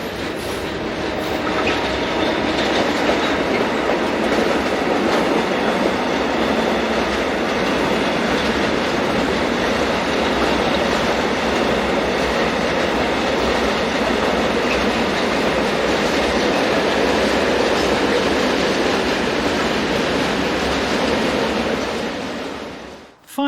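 A train of the RBH company runs along DB railway tracks, a steady, loud rumble of wheels and wagons with clickety-clack over the rails, continuous and close throughout with no talk.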